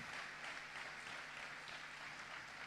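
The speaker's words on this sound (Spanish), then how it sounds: "Dele un aplauso al Señor. Bien fuerte, bien fuerte." Distant, fairly faint applause from a congregation at a church celebration service, steady clapping that holds at an even level throughout without cheering or voices standing out.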